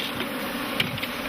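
Worker bees at an African beehive fill the air with a dense, steady buzzing hum, close and continuous, with a few louder individual bees passing near.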